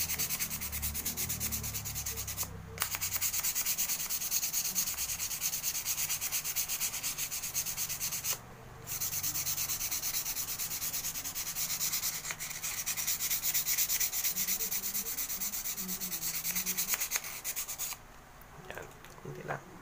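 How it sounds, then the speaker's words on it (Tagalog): Sandpaper rubbing steadily over a tool being cleaned, a continuous close scratchy rasp broken by a few short pauses, with occasional faint talk in the background. "Daanan natin ng konting liha."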